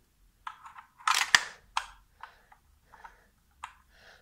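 A LEGO Star Wars #75188 Resistance Bomber's release mechanism lets a bomb drop, giving a few sharp plastic clicks and clacks close by in a quiet room.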